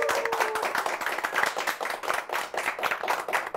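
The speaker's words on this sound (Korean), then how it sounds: "자, 박수 부탁드립니다." A small group at a CEO talk show claps for a few seconds, a brisk uneven patter of hands that stays fairly close and moderate in volume.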